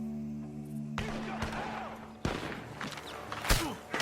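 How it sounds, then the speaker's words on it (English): Several sharp gunshots from a barn in Red Dead Redemption 2 crack out at irregular intervals over a low hum and busy background noise, one louder blast coming near the end. "Gunshots are coming from that barn!"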